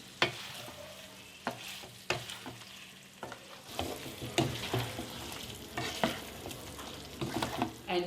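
Naga-style smoked pork with crushed ginger is stirred in a hot pan, with repeated scraping and clattering strokes of the spoon over a continuous sizzle, close and fairly loud, growing busier toward the end.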